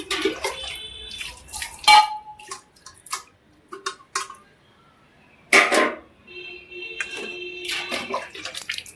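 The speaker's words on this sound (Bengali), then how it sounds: "এবার শুধু ধুয়ে নিচ্ছি" Cleaned brass and copper utensils being rinsed with water, bursts of splashing and running water with clanks and pauses between, close and fairly loud, no talking.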